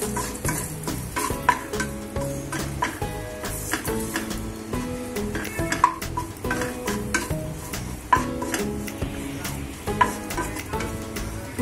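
Chopped fig, almond and pistachio pieces being roasted in ghee for amaranth dry fruit laddus, a spoon stirring and scraping the pan in steady repeated strokes over a soft sizzle, close and clear with no talking.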